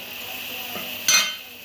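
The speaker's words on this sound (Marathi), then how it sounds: "आता आपण याच्यामध्ये थोडंसं आपला आयनी रस्सा टाकायचा आहे" Mutton rassa gravy poured into a pan of spicy mutton sukka masala and stirred: a low steady sizzle broken by one short, bright hissing splash.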